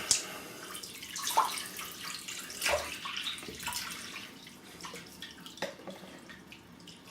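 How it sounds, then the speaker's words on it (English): Water runs from a tap into a bathroom sink at shaving time, a steady splashing wash with a few sharper drips and splatters, close by and alone with no voices. "I'll get some water in the sink."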